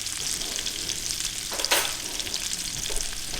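Salmon fries in a pan with a continuous close sizzle, broken midway by a brief louder scrape or hiss as the fish is worked with a spatula.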